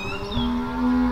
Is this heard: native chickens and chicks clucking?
no